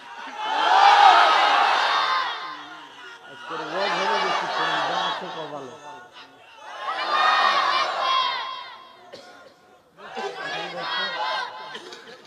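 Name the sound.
crowd loudly chanting takbir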